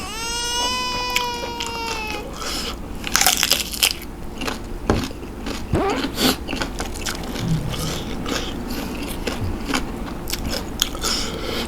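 Loud, close crunching and biting of firm, chewy octopus, repeated irregularly, with a brief high whine at the start.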